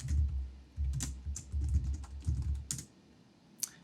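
A computer keyboard clacks as a git command is typed into a terminal, a close run of irregular keystrokes with short pauses between bursts, ending in a few sparse taps.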